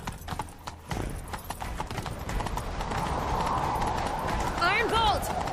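Horse hooves gallop in a rapid, steady clip-clop rhythm in The Witcher 3 video game, loud and close, with a brief whinny near the end and game voices and music around them.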